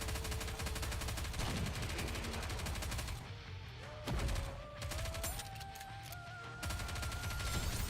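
Gunfire in the video game Nikke: Goddess of Victory, a steady loud stream of rapid automatic shots that runs almost continuously, with a brief lull and pitched game tones partway through.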